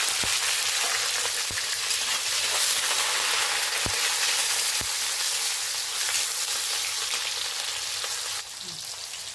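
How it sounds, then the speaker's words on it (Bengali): Chopped onion and a chili frying in oil in a pan, a steady close sizzle throughout with a few sharp clicks from a utensil, no talking. "পেঁয়াজ কুচি একটা লঙ্কা দিয়ে দেবো"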